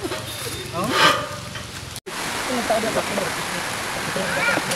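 Rain falls steadily in San Luis as a broad, continuous hiss, with a brief dropout partway through, and people talk over it throughout.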